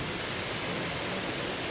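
Waterfall on Jeju Island, South Korea, giving a steady, broadband rush of falling water that stays even and continuous, fairly soft and unbroken, with no voices over it.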